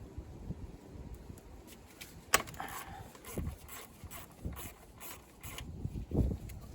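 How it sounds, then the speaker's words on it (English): Bolts and a 10mm nut loosened on the idle control valve of a BMW M52TU/M54 engine, heard as close, intermittent metallic clicks, creaks and a sharp tool knock, ratcheting in irregular bursts without talking. "So we'll loosen those, as well as the 10mm nut right here."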